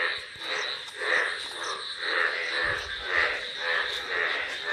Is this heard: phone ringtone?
no